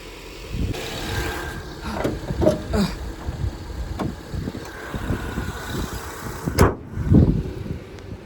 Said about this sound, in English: we've got my car running